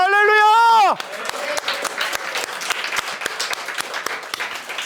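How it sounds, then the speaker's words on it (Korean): Congregation clapping in a church during a Sunday morning worship service, after a sung or held tone fades out, a steady wash of many hands clapping fills the space at moderate volume. "박수로 하나님께 영광을 올려드립니다"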